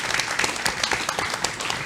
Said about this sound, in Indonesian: Tepuk tangan buat Ayus.